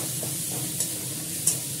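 Onions with bay leaf and garlic paste sauté in oil, making a soft, steady sizzle with a couple of light stirring taps.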